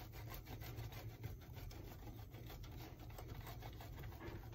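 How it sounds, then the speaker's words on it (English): Sharp cheddar cheese is shredded over a casserole with a steady rasping scrape, quiet and close, repeating in short strokes without talk. "I'm gonna take that last little bit of that sharp cheddar cheese and just shred that right across the top here."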